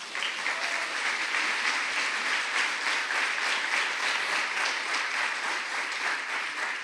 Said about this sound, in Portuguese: Um aplauso para Jesus, amém?